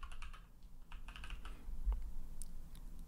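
Computer keyboard keys are typed in quick irregular bursts, close and fairly soft, with short pauses between clusters of clicks while a build command is entered for a Sanity and Nuxt site deployment.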